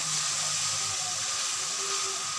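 Garlic and ginger fry in a karahi for chicken karahi, giving a steady, even hiss and sizzle that carries on throughout with no talk.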